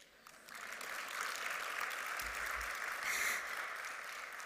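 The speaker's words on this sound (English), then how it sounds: "I feel like I should ask for more applause." Audience applause after a monetary policy and financial stability presentation, a fairly quiet, even patter of many hands that builds in after a moment and holds steady, with a brief cheer near the end.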